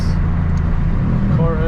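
A stock Mercedes C63 AMG V8 in Sport Plus mode gives a deep, loud rumble heard close through an open car window, a brief steady idle-like burble.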